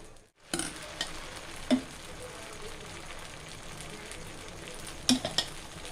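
Mudakathan keerai dosa batter sizzles steadily on a hot pan, a continuous close frying hiss with a few brief scraping clinks of a utensil against the pan.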